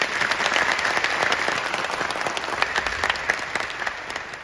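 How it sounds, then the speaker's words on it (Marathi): A speech event audience breaks into steady, dense applause, a continuous wash of many hands clapping for the full stretch with a few sharper claps standing out, fairly close and without talk over it. "एकदा हात वर जोरदार टाळी भाऊंसाठी."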